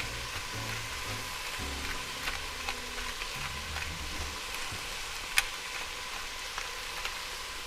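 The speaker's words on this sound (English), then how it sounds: "while the sausage is cooking, I start breaking it up and mixing it" Crumbled sausage sizzles steadily in a hot pan for lunch, with soft scraping and stirring strokes as the meat is broken up and mixed, a close continuous frying hiss with no talking.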